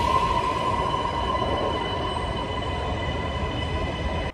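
Chengdu Metro Line 18 high-speed metro train in motion, a loud steady rumble with a faint high whine throughout, no talk.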